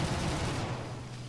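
Guns of a Bf 109 F-4 Tropical fighter in War Thunder firing long-range shots: a steady, rapid rattle of cannon and machine-gun fire, moderately faint and continuous, with engine drone underneath.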